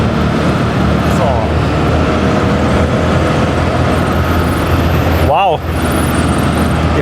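A Porsche 911 Turbo 3.3 coupé, 1980s G-model, cruises at 150 km/h, its engine and road noise making a loud, steady roar from inside the cabin, with a brief exclamation and a short upward engine sweep midway.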